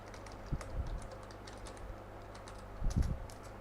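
Computer keys are typed in short quiet bursts, a few soft clicks close by with pauses between them, and no voices.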